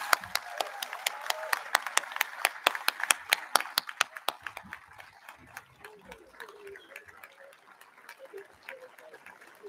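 Round of applause at a school valedictory ceremony for the graduating class of 2021, a dense burst of clapping with sharp individual claps that is loudest at first and then thins and fades over the last several seconds.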